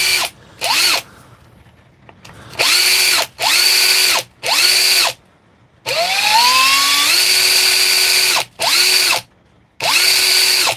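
A repaired power drill with a sticky switch and a reworked bearing runs in repeated bursts, whining loudly as it spins up and winds down between short silences, with one longer run that rises in pitch.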